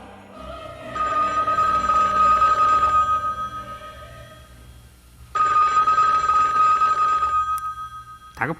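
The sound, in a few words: telephone ringing in a hotel room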